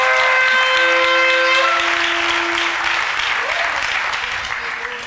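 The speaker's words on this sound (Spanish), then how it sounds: "De un aplauso para Cristo en este día." A church congregation claps for Christ during a worship service: loud, sustained applause that fills the room, with held musical tones ringing over it and slowly fading.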